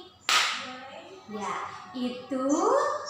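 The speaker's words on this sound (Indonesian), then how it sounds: "Selanjutnya, bunyi tepuk tangan seperti ini." A single sharp hand clap rings out near and loud as a classroom-style sound example, then a voice talks over the rest.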